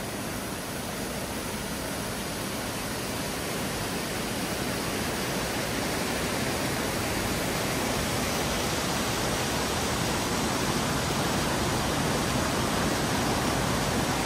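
A waterfall in Umpqua National Forest, Oregon, pours as a dense, steady broadband roar that stays loud and unbroken throughout, close by, with no voices.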